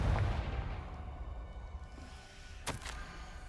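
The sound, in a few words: Confringo fire-blast spell exploding in a wizard video game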